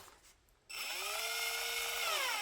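A pink Deko 20V cordless power drill with a bit fitted starts up after a brief quiet moment, then runs freely with a steady, high motor whine, close and even until the end.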